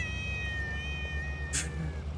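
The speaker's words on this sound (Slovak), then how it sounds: "Mačka." A single clear cat meow from a video game (SnowRunner), drawn out and slightly falling in pitch, over a steady low hum, followed by a brief bright rustle.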